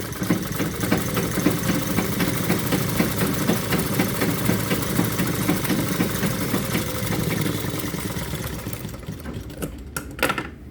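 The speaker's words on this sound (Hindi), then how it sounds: "अब इसको पक्की कर देंगे, एक सिलाई और लगा देंगे इसके ऊपर" A sewing machine stitches salwar fabric with a rapid, continuous mechanical whir and needle chatter up close, slowing and stopping near the end with a few clicks.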